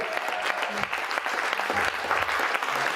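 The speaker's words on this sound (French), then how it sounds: "On les applaudit très fort, merci à eux." Dense, steady applause from a crowd fills the whole stretch, loud and continuous with no voices standing out.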